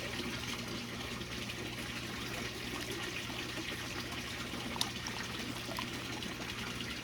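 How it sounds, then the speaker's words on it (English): Fish tank water poured onto a potted citrus plant, a steady low trickle and splash running evenly and fairly quietly, with one brief tap partway through and no voices. "I use the water from my fish tank to water this plant"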